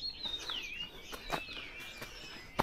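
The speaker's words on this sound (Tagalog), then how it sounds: "Yung mga ibon biglang umingay." Birds chirp and call in the open outdoors, a few high thin whistled notes and short sharp chirps scattered over a steady faint background, with no talking.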